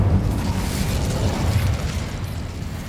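A fire spell cast in the video game Hogwarts Legacy gives a loud, sustained whooshing burst with a deep rumbling roar that holds steady for about three seconds.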